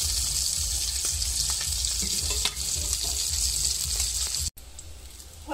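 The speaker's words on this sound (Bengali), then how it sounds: "এবার এই পিঠটাকেও এরকম সেম ভাবে লাল করে ভেজে নেব।" Hilsa fish roe fries in oil with a dense, loud, steady sizzle and crackle, broken by a brief drop near the end before the frying noise resumes; no one speaks.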